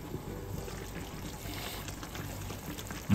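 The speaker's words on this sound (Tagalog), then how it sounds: "Magdagdag na po tayo ng mainit o bagong kulong tubig." Hot, freshly boiled water is poured steadily into a simmering pot of miso sinigang with salmon belly, a faint, continuous splashing trickle that runs for a few seconds with no talking.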